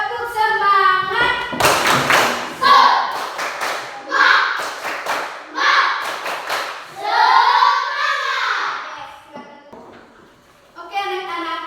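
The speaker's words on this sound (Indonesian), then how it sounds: "kita sambil kita melakukan tepuk semangat" A classroom of children performs a rhythmic spirit clap, sharp bursts of hand claps and taps alternating with loud chanted voices in a patterned call-and-response, close and lively.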